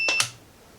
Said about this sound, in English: So when you hear the beep, then you know that it's touching.